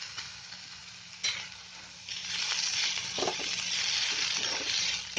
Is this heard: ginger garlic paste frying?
yes